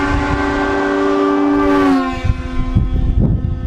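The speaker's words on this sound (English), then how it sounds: "We also installed this beast, which is the same type of horn system used on trains and semi-trucks." A train-style air horn, fed by a compressor and air tank charged to 120 psi and fitted to a car, blasts a loud multi-tone chord for about two seconds, then cuts off, followed by a few sharp knocks and thumps.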